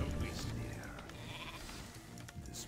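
Sheep bleating in Warcraft 3 gameplay, a short bleat amid busy game sounds and ongoing talk.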